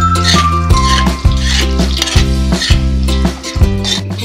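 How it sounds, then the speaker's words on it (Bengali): Potatoes fry in a karahi, a steady loud sizzle with repeated scraping stirs and metal clinks against the pan, close up with no talk. "প্রথমে আমি আলুটাকে লাল লাল করে ভেজে নিচ্ছি।"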